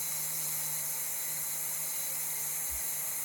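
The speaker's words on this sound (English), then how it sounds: "once the steam begins to escape" Steam hisses steadily from a pressure cooker full of mutton curry as it starts to vent, a continuous bright, fairly loud rush with a low hum beneath it and no speech.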